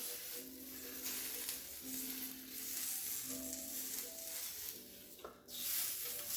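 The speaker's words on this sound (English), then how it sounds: "So we have sealed our lovely swordfish, particularly noting on the lovely crispy skin there" Swordfish sears in a hot pan, giving a quiet continuous sizzle with faint hums and a brief louder hiss near the end, close by and soft overall.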